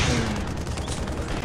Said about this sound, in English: I am wrecking him with a shotgun.